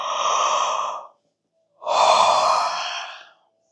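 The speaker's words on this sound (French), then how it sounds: "je vous invite à faire une grande inspire suivie d'une grande expire" A deep inhale followed by a long exhale during a guided relaxation exercise, two close, clear breaths separated by a short silence, with no talking.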